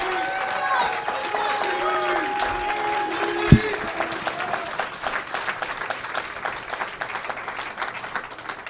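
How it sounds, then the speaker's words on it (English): A bowling crowd at a PBA50 stepladder final applauds Pete Weber, a sustained spread of clapping and crowd noise running steadily under a commentator talking, with one sharp thump partway through. "one more giant round of applause for Pete Weber"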